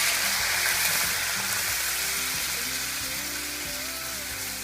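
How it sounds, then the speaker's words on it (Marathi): Water added to roasted peanuts in a hot pan of oil sizzles loudly and steadily, a dense continuous hiss that holds for several seconds with no voices. "आता यामध्ये आवश्यकतेनुसार पाणी घालायचं"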